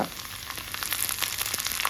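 Mustard seeds, garlic and onion frying in hot coconut oil in a pan, a steady close sizzle with scattered crackles and pops from the seeds throughout.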